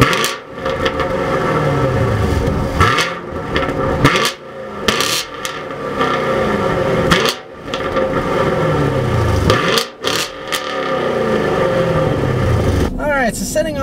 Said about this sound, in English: hit the engine start button,